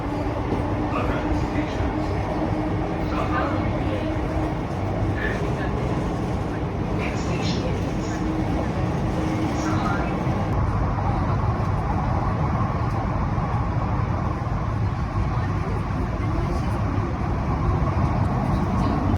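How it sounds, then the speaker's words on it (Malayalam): A Mumbai Aqua Line underground metro train running at speed makes a constant loud rumble and roar for the whole stretch, with a person talking over it. "അത്യാവശ്യം നല്ല സ്പീഡിൽ തന്നെയാണ് ട്രെയിനിൻ്റെ യാത്ര."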